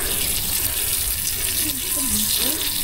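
Water pours steadily onto a giant atis tree during watering, a constant broadband splashing rush with a faint voice murmuring underneath.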